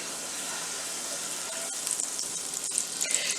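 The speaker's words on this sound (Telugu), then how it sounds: "ప్యాన్ పెట్టుకొని బటర్ వేసుకొని" Butter sizzles and crackles steadily in a hot pan before pav is fried, a close, continuous hiss with faint stirring clicks near the end.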